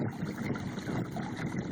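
An electric trolling motor drives a kayak across the water, a muffled, steady low hum with light water wash throughout the brief stretch and no speech.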